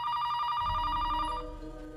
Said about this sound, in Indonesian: dikejutkan suara telepon asrama